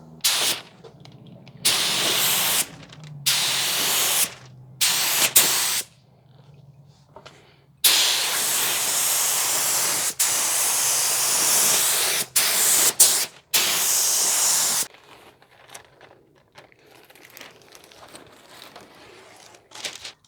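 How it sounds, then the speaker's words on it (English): Epoxy primer is sprayed onto the shaved firewall of a 1968 Chevy Camaro, with close, loud hissing bursts of varying length separated by pauses and quieter background noise. "So I'm going to clean this up, retain the marks I made, tape off the marks,"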